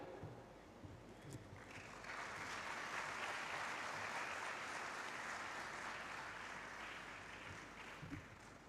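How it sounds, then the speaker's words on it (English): Faint, distant applause from an audience at an investor summit in Uganda, a broad steady wash that builds after two seconds and holds without talk. "Another round of applause"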